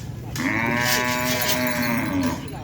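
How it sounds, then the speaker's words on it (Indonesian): A racing bull of the Roket Jawa team at a Madurese bull race gives one long, loud, wavering bellow over a noisy outdoor crowd. "ini sapi tim Roket Jawa yang datang dari Pulau Jawa."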